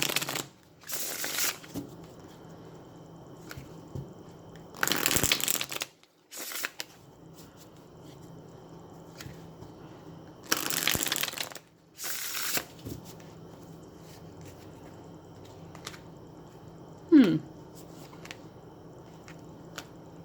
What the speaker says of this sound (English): let's shuffle and pull some tarot cards